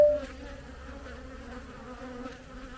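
Bees buzzing at an open beehive during a hive inspection: a dense, steady droning hum of many insects close by, constant throughout with no talk.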